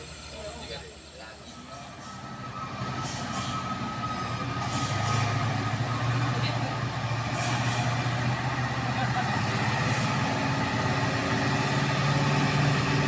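A heavy truck engine roars under strain while grinding up a steep incline, a continuous loud low rumble that builds slightly and holds steady, with faint voices in the background.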